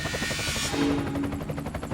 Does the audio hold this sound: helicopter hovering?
yes